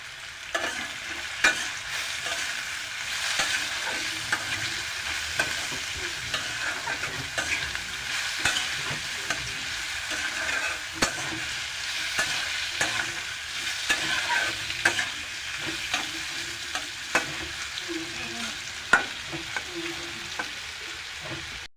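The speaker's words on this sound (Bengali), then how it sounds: "আর দেখুন হালকা করে ভেজে নিচ্ছি ফ্রেঞ্চ ফ্রাইয়ের মতন" Potatoes cut like French fries, seasoned with turmeric and salt, fry in a pan with a constant close sizzle, while a spatula scrapes and knocks against the pan in frequent irregular strokes, no voices.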